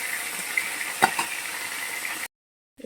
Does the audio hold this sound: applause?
no